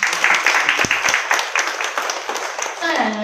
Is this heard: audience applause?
yes